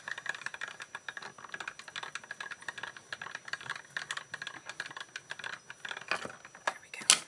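A hand-cranked card die-cutting machine rolls thin paper through, giving a dense, close run of rapid mechanical clicks and ratcheting rattles that grow louder toward the end.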